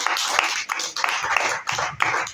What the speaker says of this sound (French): Je dédie tous ces applaudissements à Dieu